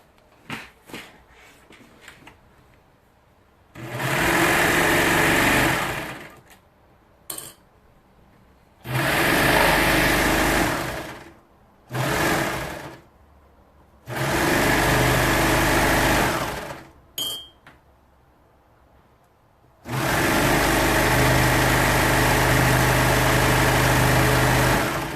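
Sewing machine running a side seam on a t-shirt, several loud sustained buzzing bursts of stitching, close up, separated by short pauses with brief stops and starts and quiet handling in between.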